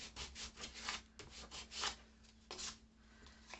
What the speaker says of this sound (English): Let's rub off a little bit up here in the middle.